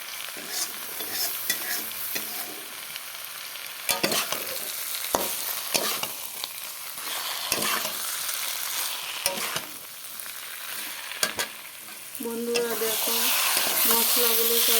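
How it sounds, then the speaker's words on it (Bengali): Ridge gourd being stirred and fried with spices in hot oil for a fish curry with potato, with steady sizzling and repeated scraping stir strokes close up, the frying growing louder near the end. "ঝিঙ্গার সাথে মশলাগুলো দিয়ে দিলাম"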